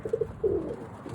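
A roller pigeon squab gives soft, low cooing notes, two quick coos followed by a longer drawn-out one, close by and alone.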